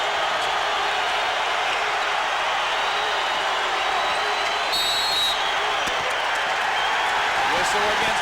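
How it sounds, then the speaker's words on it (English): A basketball arena crowd at a 1997 Bradley Braves home game against Michigan, a dense, loud, continuous roar of cheering with a broad wash of noise, sharp whistle-like cries near the middle and faint talk underneath. "Crowd's getting into the game now."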